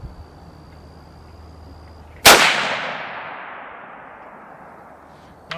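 A single sharp, loud 6.5 Creedmoor rifle shot fired at a target outdoors, cracking suddenly and then decaying in a long ringing tail, with quiet background before and a faint click near the end.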